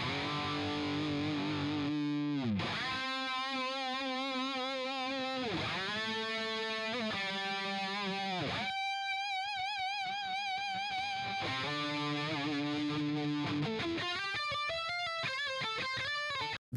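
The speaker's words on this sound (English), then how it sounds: "so it's just kind of a wonky pedal, but it just was cool and like kind of gritty." Gritty, heavily distorted electric guitar through an effects pedal, playing sliding, wobbling notes with warbly modulation, loud and continuous with a brief break midway.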